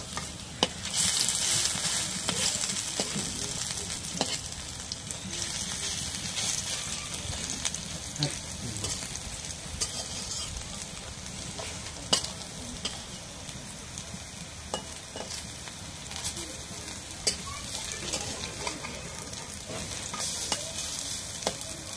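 Bora fritters sizzle steadily in hot oil in a pan while a utensil stirs and scrapes now and then, a close, continuous frying hiss lasting throughout with no clear speech.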